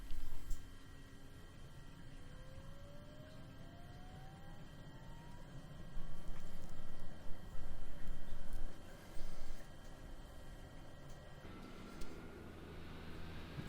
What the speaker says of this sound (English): See that first engine start up on the outside there.